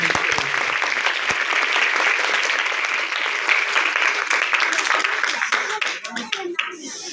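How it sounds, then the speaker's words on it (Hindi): A church congregation at a Christmas service claps loudly in sustained, dense applause that fills the whole stretch and thins out near the end, with some voices mixed in. "खुदा के लिए जोरदार तालियां बजाते हैं।"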